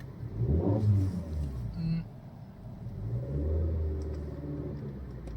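A car's engine revs and rumbles at close range during a driving lesson, swelling loudly at the start, easing off, then rising again as a steady drone, with a voice speaking over it.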